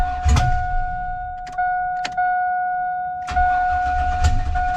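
A Cadillac Escalade engine cranks in short bursts that rise into quick firing, heard close up with a steady electronic chime tone running throughout.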